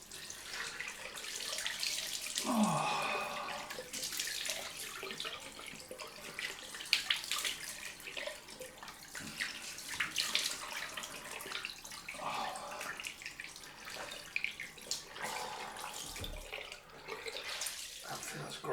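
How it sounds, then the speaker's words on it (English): A bathroom tap runs for a cold rinse after a wet shave, steady splashing water with hand-cupping surges and brief drips, close by and fairly soft, with someone speaking over it at times. "So, cold rinse time."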